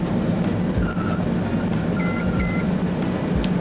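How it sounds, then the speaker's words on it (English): A car being parked outdoors, steady engine rumble and road noise throughout, with a few short high electronic beeps like parking or reversing alerts partway through. "So I'm gonna park my car here."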